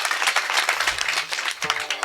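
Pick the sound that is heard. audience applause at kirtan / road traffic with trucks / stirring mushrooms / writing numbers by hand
audience applause at kirtan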